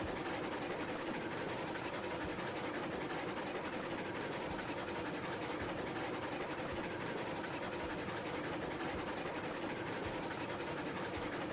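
A long freight train in Railroads Online rumbles steadily along the rails, a continuous low, dense roll with faint rhythmic clatter and no voices.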